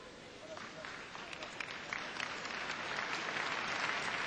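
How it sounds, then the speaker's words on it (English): Steady, fairly faint applause from the audience at a gymnastics championship beam final fills the whole stretch, a dense wash of clapping from a large arena crowd. "Applause from the audience, appreciating just how difficult it is to pirouette on a beam"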